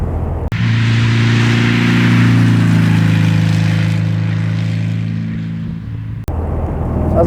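Black 1964 Porsche 356 C Coupé driving on a country road, a loud steady engine drone close by with a low rumbling tone, framed by two sharp clicks near the start and end.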